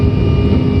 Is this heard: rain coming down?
no